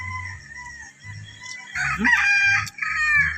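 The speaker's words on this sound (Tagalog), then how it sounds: "May mga manok po nila" A rooster crows loudly nearby on a rambutan farm in Orion, Bataan, a full cock-a-doodle-doo call standing out against low rhythmic background noise.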